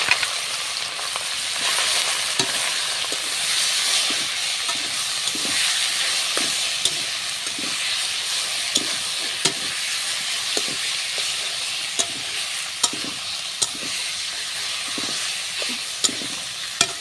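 Greens sizzle and fry steadily in hot oil with garlic, a continuous bright hiss punctuated by regular clicking stirs of a utensil against the pan.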